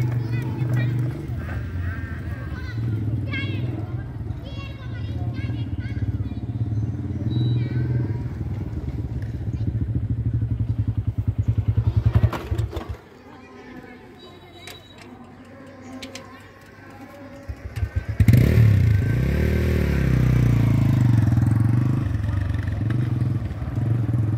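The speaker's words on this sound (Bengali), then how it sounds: "তো ভাইটি মোটরসাইকেল ব্রেক করছে" A motorcycle ridden by a learner rumbles with a steady low engine drone that drops away partway through, then surges back louder as it is ridden and braked, with people talking over it.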